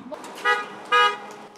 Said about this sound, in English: Signs and banners encourage passers-by to honk and show support for first responders.